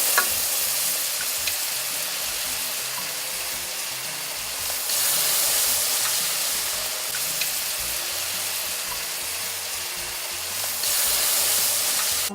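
Brown gravy with turkey giblets and turkey neck cooking in a pan for Southern cornbread dressing, giving a steady close sizzle and frying hiss throughout, slightly louder in stretches, with no talking.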